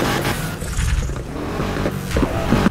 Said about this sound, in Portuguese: vamos acelerar aqui o nosso Mustangueira